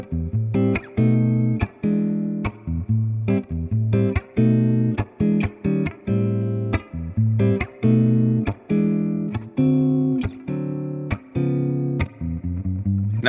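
Electric guitar played through a Vox amp's built-in spring reverb, with short choppy chords and clipped stabs in an uneven rhythm, each one ringing briefly before the next hit, close and fairly loud throughout.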